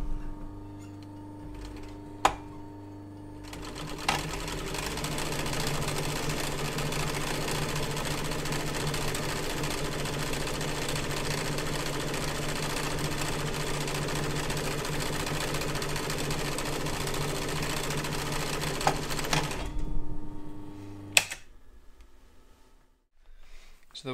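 A sewing machine stitches a binding strip folded into a loop over a magnet for a campervan thermal window cover, running in one long, steady whirring burst of about fifteen seconds, close and loud, with brief clicks before and after.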